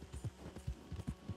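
Horse hooves clip-clopping in Red Dead Redemption 2, a quick uneven rhythm of about eight dull thuds, close and fairly quiet over a low hum.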